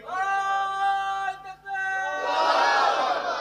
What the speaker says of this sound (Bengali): একবার তাকবীর মারো তো দেখি